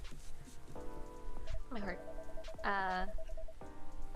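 Steady rainfall patters outside the café in the cozy game Coffee Talk 2, a soft continuous wash running beneath music and a person's voice throughout.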